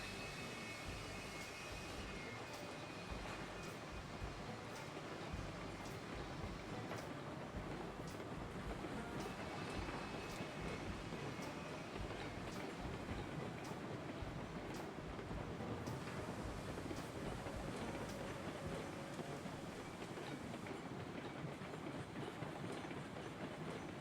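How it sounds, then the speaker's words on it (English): A train rolls past in the railway video game Railroads Online, a faint but steady rumble with rhythmic clicking and a broad wash of wheel noise lasting the whole stretch, no voices. "Train's on the way out, bro."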